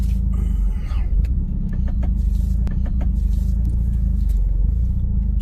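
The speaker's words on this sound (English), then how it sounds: "The customers brought it in for knocking noises on the front end." Renault Megane R26 sitting stationary with its engine running, a heavy low rumble throughout and a few sharp knocking clicks from the front end scattered over the drone; no one talks.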